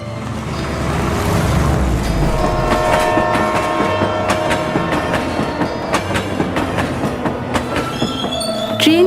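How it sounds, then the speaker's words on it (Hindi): A train travels along the rails with a loud, close rumble, a rhythmic clickety-clack of wheels over track joints, some metallic squealing and a brief horn-like tone near the end. "ट्रेन हवा से बातें करती हुई उनको गांव के स्टेशन पर पहुंचा देती है।"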